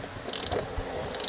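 A socket ratchet snugs 14 mm nuts onto carriage bolts on a utility trailer, giving two short bursts of fast, close metallic clicking against a quiet background, with no voices.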